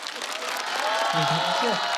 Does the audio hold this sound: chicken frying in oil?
no